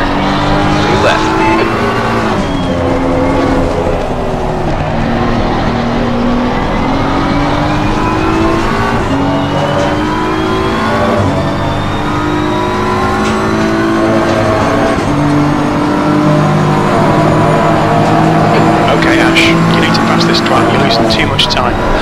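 Race car engines roar in the video game Assetto Corsa Competizione, loud and continuous with rising and falling revs through gear changes, while a voice talks over the engine noise.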